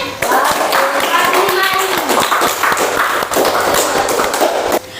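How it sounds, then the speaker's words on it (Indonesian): A classroom full of students gives a burst of applause for a classmate. The dense, loud clapping is mixed with children's voices and stops abruptly just before the end. "Kita aplaus untuk Farli."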